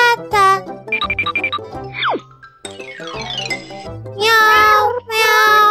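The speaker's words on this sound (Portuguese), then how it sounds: "Miau, miau, miau." A cartoon cat meows several times in a lively animated scene, with short bright cries over background music and sound effects.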